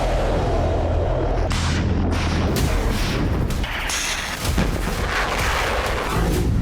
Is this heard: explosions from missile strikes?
yes